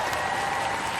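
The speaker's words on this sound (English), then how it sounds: "Give them a round of applause" Robot Wars studio audience applause in a quick one-second burst of steady clapping with a faint tonal hum underneath.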